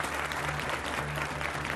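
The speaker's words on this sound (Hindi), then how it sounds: "तालियों के साथ इनका भी स्वागत कीजिए।" A studio audience on a Hindi television debate show applauds in a dense, continuous burst of clapping with no pauses.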